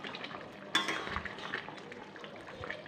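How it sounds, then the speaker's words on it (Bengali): A spoon stirs Bengali-style chicken curry just after garam masala goes in, with a sharp scrape followed by soft, wet stirring and faint sizzling, all fairly quiet. "গরম মশলাটা দেওয়ার পরে এটাকে নাড়াচাড়া করে"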